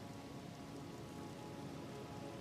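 Steady rain falling in Elden Ring, a constant even downpour of dense patter that fills the scene with no breaks or other sounds.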